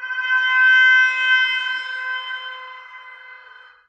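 Horn sound sample, time-stretched with librosa, giving a steady, sustained, slightly warbling tone with processing artifacts that slowly fades over a few seconds.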